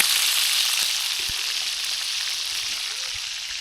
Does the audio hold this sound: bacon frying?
yes